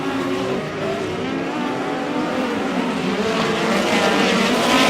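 Midget race cars of the POWRi West Midget League roar around Airport Raceway, a dense, sustained engine howl that swells steadily louder over the few seconds with no voices.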